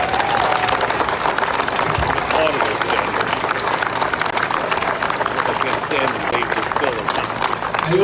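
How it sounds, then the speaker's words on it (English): Outdoor rally crowd for police and their families applauding steadily, dense sustained clapping with scattered cheers filling the scene for several seconds. "Let's give the families a round of applause."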